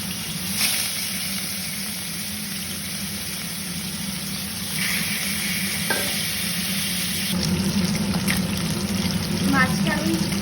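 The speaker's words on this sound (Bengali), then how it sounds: "মাছটা আমি ভেজে নিচ্ছি ভালো করে।" Fish frying in very hot white cooking oil, a continuous bright sizzle with occasional stirring and small clatter, loud and close, holding steady throughout.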